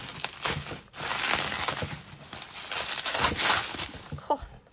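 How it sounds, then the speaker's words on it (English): A plastic packet of LEGO is torn open close up, giving a continuous crinkling, ripping rustle that lasts several seconds with short pauses. "I'm just going to rip."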